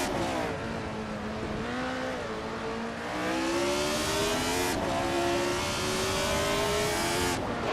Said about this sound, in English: H2 Hove is driving a Ferrari 312it, a classic and iconic car from 1975